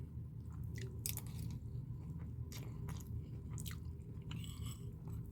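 Fried dried fish and rice are bitten and chewed close to the mic, with repeated crisp crunches at an irregular pace over a steady low background hum.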